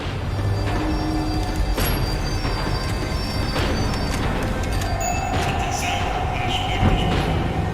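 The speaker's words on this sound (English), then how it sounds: "The tram was slowing down, and I'd only just gotten on board." A tram in the game Max Payne 3 rumbles and clatters as it slows, a continuous loud mechanical rail noise with metallic squeals and thumps throughout.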